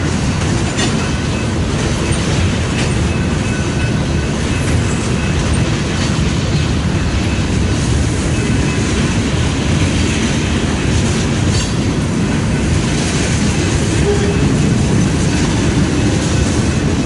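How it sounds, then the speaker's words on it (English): A BNSF northbound manifest freight train rolls through Fremont, Nebraska on the Sioux City subdivision, a loud, steady rumble of rail cars with rhythmic clickety-clack and faint wheel squeal throughout, no talking. "This is a northbound manifest cutting through town here."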